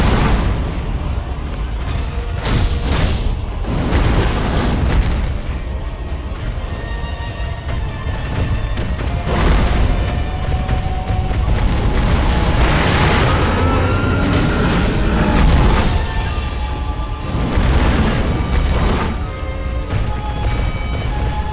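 Firecrackers bursting in the video game Sekiro, a series of loud sharp pops and booms repeating every few seconds over a busy, dense game soundscape.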